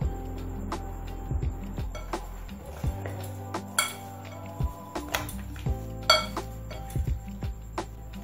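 Wheat flour dough for dahi luchi being cut into small portions on a hard surface, producing a string of light clinks and taps in an uneven rhythm over a steady background hum, close by.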